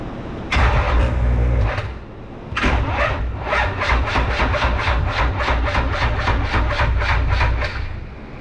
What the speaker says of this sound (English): we'll hit the key and see if the starter is going to engage